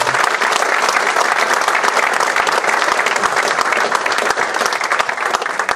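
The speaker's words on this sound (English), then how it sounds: "Give a big round of applause." Dense, steady applause from an audience at a Queen's Award for Voluntary Service presentation at Glentoran Football Club, loud and close, continuing evenly throughout with no talk over it.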